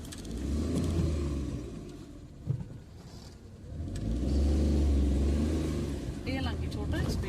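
Maruti Alto VX 2011 small hatchback engine pulling away on a national highway, a low rumbling drone that swells as it accelerates, heard from inside the cabin with people talking over it.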